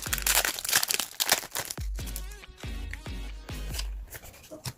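A Pokémon card booster pack is torn open, giving a close, quiet series of crinkling foil rips and crackles in short irregular bursts, with a few soft vocal sounds between them.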